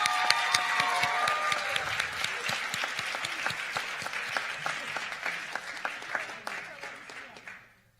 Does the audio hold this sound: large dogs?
no